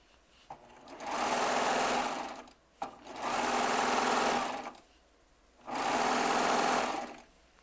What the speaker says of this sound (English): One thing I love about piecing quilt tops on a serger